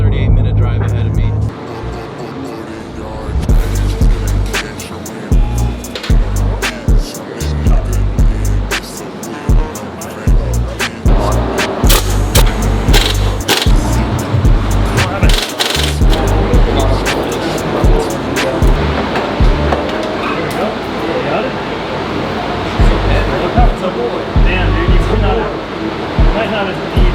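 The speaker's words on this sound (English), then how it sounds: "unequal length headers bring out that Subi rumble" A Toyota GR86 fitted with unequal length headers rumbles steadily while driving, a loud, continuous low exhaust drone with road and cabin noise and scattered clunks throughout, with a voice talking at times.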